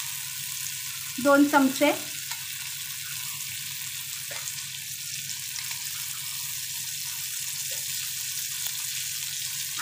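Oil on a hot tava for chicken fry gives a steady, soft hiss through the whole stretch. A short burst of voice comes near the start, with a few faint clinks afterward.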